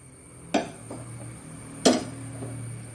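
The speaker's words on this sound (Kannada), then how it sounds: "ಇಲ್ಲಿ ಗ್ಯಾಸ್ ಸ್ಟವ್ ಉರಿಸಿ ಇದರಲ್ಲಿ ಎಣ್ಣೆಯನ್ನು ಬಿಸಿಯಾಗಲಿಕ್ಕೆ ಇಡೋಣ" A pan set down on a gas stove to heat oil for frying banana golibaje, giving two sharp metallic clanks about a second apart with faint rattling in between, close and otherwise quiet.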